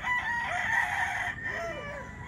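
A Kelso gamefowl rooster crows loud and close, one long drawn-out cock-a-doodle-doo that tails off with clucking, with no talk over it.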